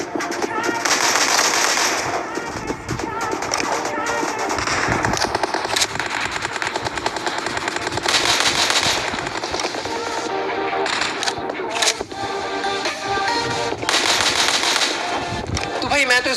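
Rapid gunfire crackles in a battle royale video game, repeated sharp bursts and single shots, loud and dense throughout, with a voice talking intermittently over the fighting.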